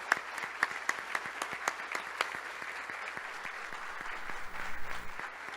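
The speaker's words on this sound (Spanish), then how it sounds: "un aplauso fuertísimo para nosotros" An audience at a national tourism forum applauds steadily, with close, crisp claps at a fairly even density that swell slightly toward the end.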